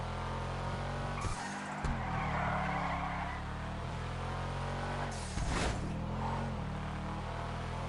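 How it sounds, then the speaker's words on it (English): In GTA Online, a car launches hard, its engine and exhaust rumbling loudly, with two sharp bursts of tire squeal and skidding breaking through the steady roar. "It's a little rumble in the exhaust."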